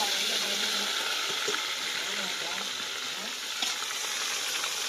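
Chicken pieces going into a hot pan and frying, a steady close sizzle with a few light clatters and stirring knocks. The sound continues evenly with no talk.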